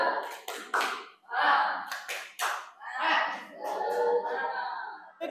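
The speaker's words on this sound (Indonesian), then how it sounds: "tepuk semangat" A primary school class in a maths lesson performs a spirit clap, with children's hands clapping in quick patterned bursts and short rhythmic runs, loud and close, mixed with children chanting along.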